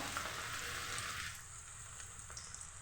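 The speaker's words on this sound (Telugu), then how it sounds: "ఆయిల్ హీట్ అయినాక కొంచెం కొంచెం దొండకాయలు ఇలా జస్ట్ కొంచెం మన పకోడీలాగా" Ivy gourd pakodi pieces sizzle and crackle in hot oil in a pan, a steady dense frying hiss that drops a little in loudness partway through and carries on without voices.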